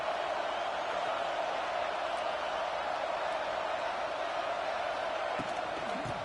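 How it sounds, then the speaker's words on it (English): A stadium crowd roars steadily in a college football video game, UCLA facing Georgia, forming a loud, continuous wall of noise with a commentator's voice faintly over it. "This crowd, full throat, splitting the eardrums and letting them know it's going to be a long day."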